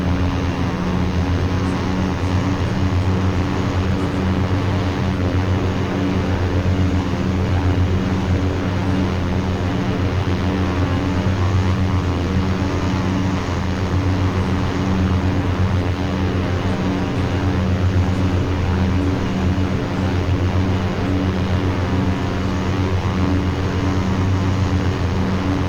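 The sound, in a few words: OV-10A Bronco propeller engine at full RPM, video game DCS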